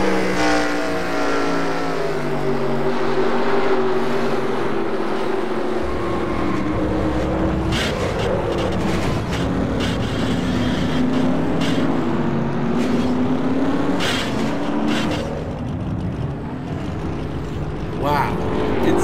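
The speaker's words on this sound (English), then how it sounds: "Let's go ahead and watch this crash a couple more times here." Race cars roar and crash in the NASCAR Racing 2003 video game at Iowa Speedway, a dense wash of engine drone with sharp impact bursts and scraping, and a voice talking over the action throughout.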